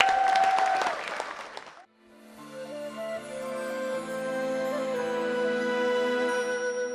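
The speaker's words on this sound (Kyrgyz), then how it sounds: "кол чаап тосуп алабыз." Audience applause welcomes a singer at a Manas-recitation contest, a short burst of clapping that fades within two seconds as music begins.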